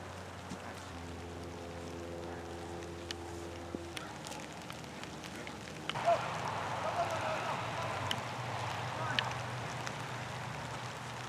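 Rain falling outdoors near a barn, a soft steady patter that thickens into a denser hiss partway through, with a few louder drop hits, while a low tonal hum fades out early.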